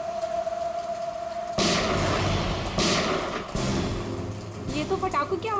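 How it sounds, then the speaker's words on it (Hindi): Several sharp, loud gunshots ring out in succession over steady heavy rain, with a few fainter pops toward the end. "ये तो पटाखों की आवाज नहीं लगती, ये कहीं गोली चली है।"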